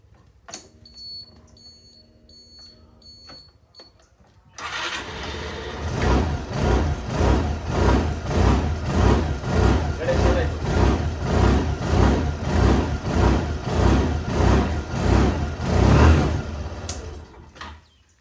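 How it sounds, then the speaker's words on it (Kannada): A repaired scooter, fixed for a battery problem, gives a few electronic beeps as the key is turned, then its small engine starts and idles with a close, steady, pulsing chug before cutting off. "ಕೀ ಹಾಕ್ತಾ ಇದ್ದೀನಿ, ಗಾಡಿ ಆನ್ ಆಗಿದ್ದೀನಿ, ನೋಡೋಣ."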